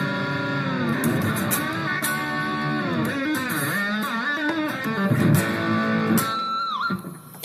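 Electric guitar played through a Yamaha THR10 amp with a treble boost pedal and drive, giving sustained distorted notes and bends that ring steadily throughout before fading near the end, with some background hum.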